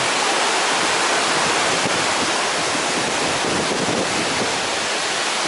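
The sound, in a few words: river water flowing where Afon Nankol joins Afon Artro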